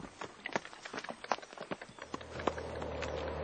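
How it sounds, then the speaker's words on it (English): Horses clip-clop along a rough, poorly maintained village road in rural Nawairuku, Fiji, where they haul water; a steady run of hoof knocks sounds at moderate distance, with a low rumble entering toward the end. "Sometimes horses are used to collect water."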